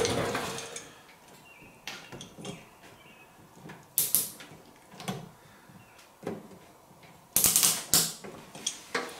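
Sprayer assembly on a Brinly 15-gallon tow-behind sprayer, with a bolt being tightened: scattered close mechanical clicks and ratchet-like metallic clacks, with louder sharp bursts around the middle and near the end, and no talking.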